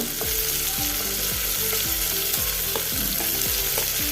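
Onion and capsicum sautéing in a pan, a constant loud frying sizzle with a regular series of spoon scrapes against the pan, close and without speech.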